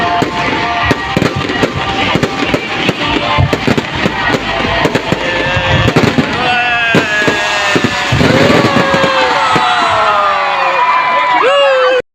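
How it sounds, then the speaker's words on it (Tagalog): Fireworks bang and crackle continuously over a noisy, cheering crowd at Mall of Asia, with bursts and whistling streaks throughout. "nagsimula na rin ang pa-fireworks ng Mall of Asia"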